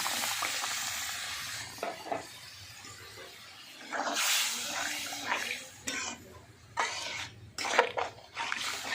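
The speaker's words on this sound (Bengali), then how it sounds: "এবার আমি পরিমাণ মতো জলটা ঢেলে দিচ্ছি" Water is poured into a hot spice mix for a jackfruit seed curry, a close rushing pour and sizzling hiss that swell and fade in uneven bursts, with clanks in between.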